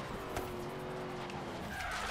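A car in the video game Forza Horizon 3 brakes hard, its tires squealing and skidding over a steady engine drone, with a sharper screech near the end.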